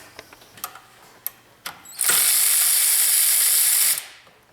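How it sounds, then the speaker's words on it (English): A ratchet works the 10mm water pump pulley bolts on a 2011–2017 Ford F150: a few scattered clicks first, then a loud, close, rapid ratcheting burst lasting about two seconds before it stops. "we'll loosen up the pulley bolts, which look like a 10mm, while the belt's still on it"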